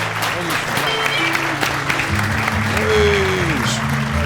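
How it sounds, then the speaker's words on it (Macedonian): Audience applause for Gogo on a studio talk show, with steady clapping that fills the whole moment and a crowd murmur beneath it. "Аплауз за Гого!"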